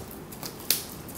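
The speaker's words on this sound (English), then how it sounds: "Well, I've got scissors." Scissors snip once, sharp and close, while cutting open a record package on Record Store Day, with faint soft handling noise before it and no talking.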